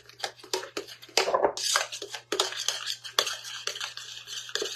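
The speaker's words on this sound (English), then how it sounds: "And then you're going to stir that onion in there." Onion being stirred into a cooking pot in a home kitchen, giving a busy run of utensil scrapes and clinks against the pot, fairly close and moderately loud, continuing throughout with no talk.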